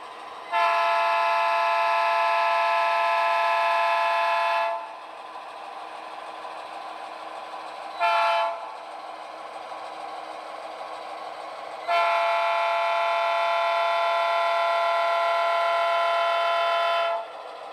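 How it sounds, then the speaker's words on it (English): Athearn Genesis GP38-2 model diesel locomotive in Southern Pacific paint on a train layout sounds its horn: a long steady blast, a brief toot, then another long blast, over a low continuous engine hum. "It's an Athearn Genesis GP38-2 painted in the Southern Pacific scheme."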